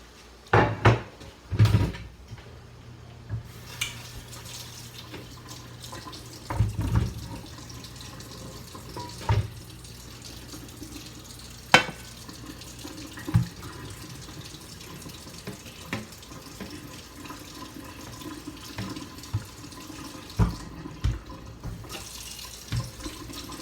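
Cooked ground beef grease draining into a colander in a kitchen sink, with running tap water, clanks of metal and cupboard knocks scattered over a steady low watery hiss, close and moderately loud, no talk.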